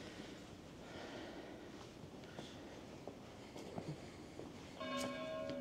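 Church bell in the hilltop village of Séguret in southern France. Wind and faint outdoor ambience come first, then a single clear, ringing bell strike near the end.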